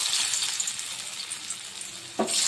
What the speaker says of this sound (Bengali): এবার তেলে এক এক করে ভেজে নিতে হবে।